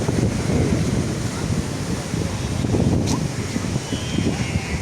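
Strong stormy wind buffets the microphone at a beach while waves surge and crash continuously, a loud, dense roar throughout with no clear speech.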